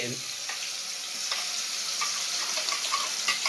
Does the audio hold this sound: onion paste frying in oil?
yes